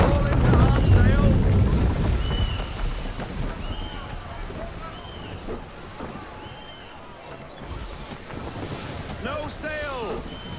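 Wind, rushing water and creaking of a sailing ship at sea in the video game Assassin's Creed III, a steady broad wash with short tonal creaks and whistles, louder at the start and easing off, with voices heard now and then.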